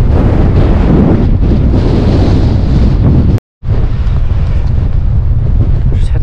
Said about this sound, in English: You probably can't hear for the wind, it's almost blowing me off my feet